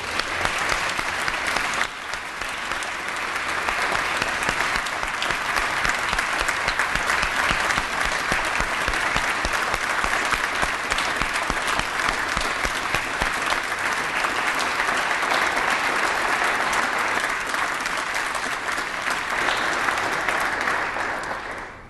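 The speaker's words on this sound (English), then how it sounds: "Could you please join me in one final round of applause for all of them?" Sustained applause from a ceremony audience honoring award recipients, steady and dense clapping filling the room for about twenty seconds before tapering off at the end.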